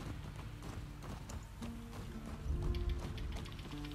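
Horse hooves clip-clop in The Last of Us Part II video game, a steady plodding rhythm under a low rumbling ambience and patter, moderately faint.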